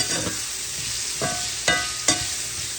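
Onions sizzle steadily in a skillet while a utensil stirs them, with a few sharp scrapes and clinks against the pan over the constant frying hiss.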